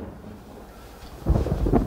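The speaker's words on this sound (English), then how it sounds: "that thunder?" Thunder in the woods near a cave sounds after a quiet stretch as a sudden loud, close rumbling crack that lingers to the end.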